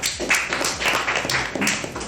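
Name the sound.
applause for Lala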